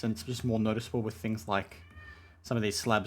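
A pet cat meows once, clearly, in the background during a pause in a person's indoor talk.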